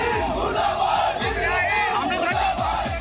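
A large crowd in Lucknow chanting slogans against Israel and America at night at the Imambara, loud massed voices rising and falling in repeated rhythmic waves.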